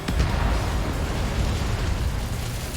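A missile explosion in the Ace Combat 7 combat flight game, a dense, sustained rumbling boom with heavy low-end roar, loud and close, with no speech over it.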